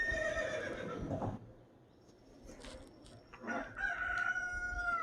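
Horse neighing in the video game The Legend of Zelda: Ocarina of Time, a loud whinny at the start, then a quieter stretch of game ambience, followed by a second loud call near the end.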